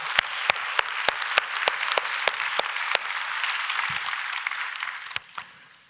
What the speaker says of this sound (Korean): 우리 아버지들 격려의 박수 한번 해주십시다.